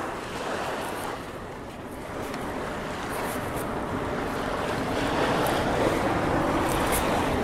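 Steady rushing of water waves at the Prairie du Sac Dam, with wind noise buffeting the microphone, a constant wash of sound growing slightly louder toward the end.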